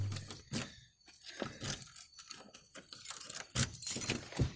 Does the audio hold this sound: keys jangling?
yes